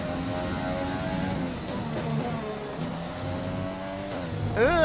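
An F1 car engine in the F1 2020 game screams through the gears during qualifying at the Russian Grand Prix, a steady, close, high-pitched whine with rising and falling revs, climbing sharply at the close.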